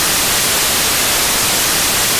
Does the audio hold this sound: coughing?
no